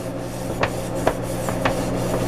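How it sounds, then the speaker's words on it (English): Scrubbing on a burnt porcelain-coated pot gives a steady rubbing rasp with several short, sharper scraping strokes about every half second, close and fairly loud. "The more I scrub, but keep on scrubbing this, I'm gonna lose the porcelain coating on here."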